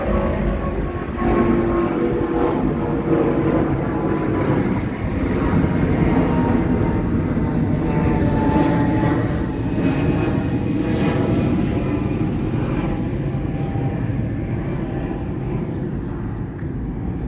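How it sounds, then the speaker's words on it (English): Loud airplane roaring overhead, a steady heavy engine drone that swells slightly and holds throughout, with no talk. "you need to wait till the airplane passes by."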